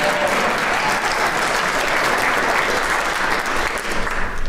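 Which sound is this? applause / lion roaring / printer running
applause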